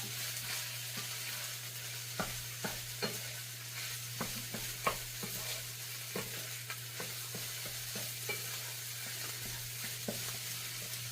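Sweet Filipino tocino meat frying in a pan, a continuous sizzle broken by repeated scraping and clicking strokes as it is stirred, with a low steady hum underneath.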